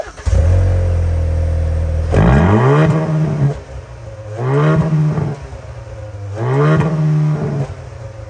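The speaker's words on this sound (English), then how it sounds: "on the GT, you get an active exhaust" A 2022 Haval H6 GT's engine revs up loudly three times through its active exhaust, each rising growl easing back to a rumbling idle, with crackly exhaust tone.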